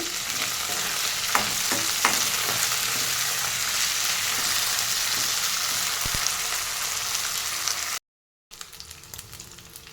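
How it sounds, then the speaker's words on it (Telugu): Green chillies fry in hot oil for a brinjal and cucumber chutney, giving a loud, steady, close-up sizzle with occasional stirring clicks. The sizzle breaks off for a brief silence, then resumes more quietly, and no one speaks. "నేను దీంట్లోకి గ్రీన్ చిల్లీస్ యాడ్ చేస్తున్నాను ఇవి మంచిగా ఫ్రై అవ్వాలి"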